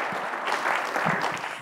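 Audience applause at a healthcare event on cancer breakthroughs, a steady wash of clapping from a seated crowd lasting under two seconds with no voices over it.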